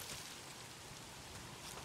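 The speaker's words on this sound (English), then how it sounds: "If it's not the freaks, it's the goddamn rain." Rain falling in the video game Days Gone, a faint, steady hiss of rainfall with no talk.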